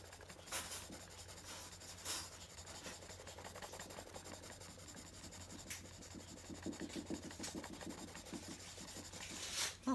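Fine point markers scratching across paper in quick, close strokes, a steady dry rasp running the whole way with soft background hum.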